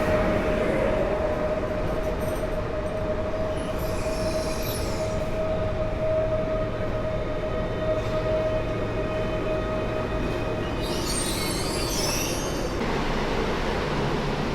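An airport train bound for Modlin rolls through Warszawa Zachodnia station with a continuous rumble of wheels and cars. A steady tonal whine runs early on, and bright wheel squeals rise twice over the loud, unbroken passing.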